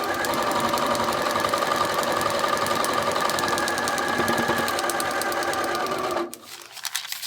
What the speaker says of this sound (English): we're going to sew, don't forget, we're going to go up into the seam allowance and then go across